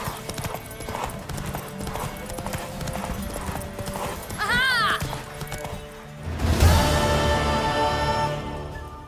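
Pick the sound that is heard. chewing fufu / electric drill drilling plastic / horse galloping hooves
horse galloping hooves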